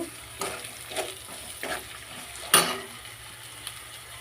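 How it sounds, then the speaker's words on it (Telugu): Ginger paste being stirred in a pan for egg masala curry, a handful of soft scraping strokes at a quiet level with no voices. "అల్లం పేస్ట్ వేసుకుంటాం ఇలా వేసుకొని ఇలా కలుపుకోండి"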